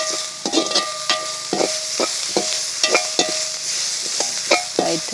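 Garlic tempering sizzles in a pan, a close, continuous frying hiss broken by rhythmic stirring scrapes and clinks of a spoon against the metal.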